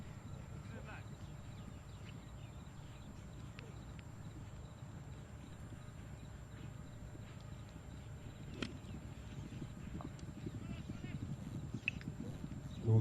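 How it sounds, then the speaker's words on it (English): Hooves of a chestnut polo horse during a polo match, a faint, irregular clip-clop thudding in the distance beneath a voice talking over it, with occasional sharper knocks. "Kaku Raja coming in on this beautiful chestnut horse."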